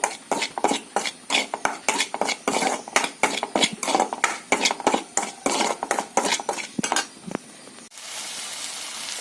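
Metal spoon scraping and clinking against a pan while spice powders are dry roasted, a brisk irregular run of stirring scrapes and taps, close and fairly loud, ending with a quieter low hiss.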